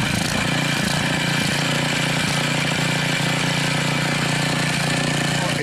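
A Briggs & Stratton 5 hp OHV engine on a Mastercraft rototiller runs steadily nearby with a stuck-valve misfire, its loud continuous drone broken by uneven stumbles for the whole stretch.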